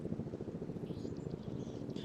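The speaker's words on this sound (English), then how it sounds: "Is that a friendly helo approaching? I hear a helicopter." A helicopter approaches in the military video game Arma 3, its rotor giving a steady low, pulsing thump that stays fairly distant and continuous throughout.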